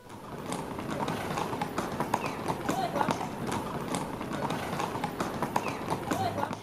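Horses' hooves clip-clop steadily on the streets of Ponte de Lima, Portugal, during a town horse ride at the horse fair. The hoofbeats run continuously under talk, with crowd noise around them.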